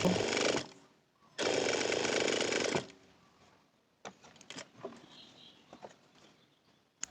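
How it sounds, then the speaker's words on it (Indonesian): A sewing machine runs a half-centimetre seam along a folded fabric belt loop in two loud, fast-stitching bursts, followed by quieter clicks and handling noises at close range. "jahit lipatan kain dengan kampuh setengah senti atau 1 jahitan sepatu"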